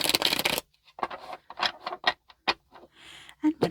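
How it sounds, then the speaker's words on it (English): Tarot cards shuffled and cut at close range: a dense papery riffle at the start, then a run of short sharp taps and card slaps with brief gaps. "And shuffle and cut number 2."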